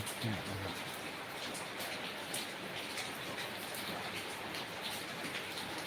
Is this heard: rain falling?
yes